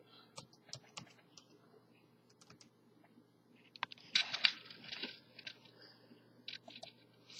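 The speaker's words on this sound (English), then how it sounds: "Let's just type in promotion." Light plastic key clicks from typing on a budget laptop keyboard, scattered single taps followed by a quick flurry of keystrokes, quiet and close with a faint background hum.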